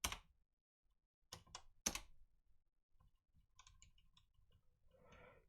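Sparse keyboard clicks in a quiet room: a few sharp separate keystrokes, then a quicker cluster of lighter taps near the end.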